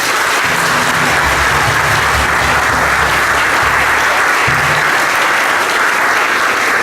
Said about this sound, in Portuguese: E desejamos boas-vindas ao Padre Eduardo, com uma calorosa salva de palmas.